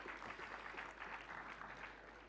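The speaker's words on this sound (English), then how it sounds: "So a round of applause again for ITC and Novotel." A conference audience at a hospitality and tourism event claps steadily, with a dense, continuous wash of applause that holds at an even level throughout.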